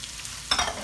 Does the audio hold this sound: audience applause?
no